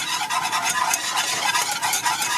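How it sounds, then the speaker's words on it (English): Sifted flour being stirred into melted butter in a pan just off the heat, a steady close scraping and swishing with a soft sizzle running throughout, no pauses. "So you start stirring it together"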